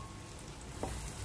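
Onion dropped into melted butter in a pan, giving a quiet, steady frying sizzle with a brief bump as it hits, alone and low in level.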